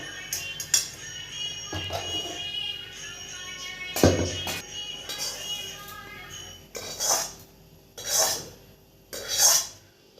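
Semolina roasting in a pan while being stirred, a metal spoon scraping and clinking against the pan in repeated strokes, with a few louder rasping scrapes toward the end, close and fairly quiet.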